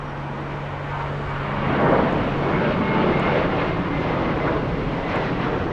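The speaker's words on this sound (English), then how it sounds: "Let's go for the takeoff. We have an American Airlines" An American Airlines Airbus A321 airliner taking off at Los Angeles International Airport, a steady loud roar of jet engines that swells slightly and holds, with no one talking.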